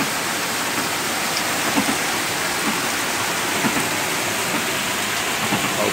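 Floodwater rushes loudly through the streets of Belo Horizonte, Minas Gerais, during a heavy rainstorm, with the water risen up to a pole. A steady, dense roar of pouring rain and moving water fills the whole stretch without a break.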